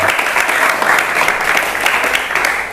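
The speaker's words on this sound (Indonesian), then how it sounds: "Tepuk tangan buat kita semua." A classroom group claps together in steady, dense applause, loud and close, lasting throughout without a break.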